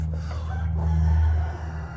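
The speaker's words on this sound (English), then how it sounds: "That's right, cock-a-doodle-doo." A rooster crows outdoors in winter, one drawn-out, fairly loud cock-a-doodle-doo over a steady low background hum, with no voices.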